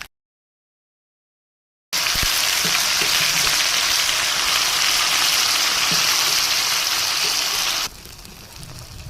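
After a brief silence, a loud, steady sizzle fills the pan as mustard greens hit hot oil with light-browned garlic and ginger, easing slightly near the end.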